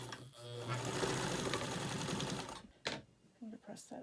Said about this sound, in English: I'm going to take these two and sew them together.